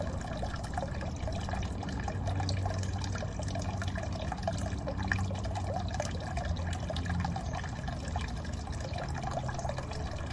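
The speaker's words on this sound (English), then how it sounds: "there's something very relaxing about listening to the sound of trickling water" Water trickles steadily from a small solar-powered fountain pump in a garden water feature, a soft continuous splashing and dripping at low level with no talking.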